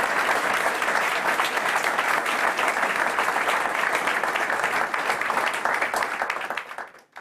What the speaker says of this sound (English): I want to have a big applause for all the ladies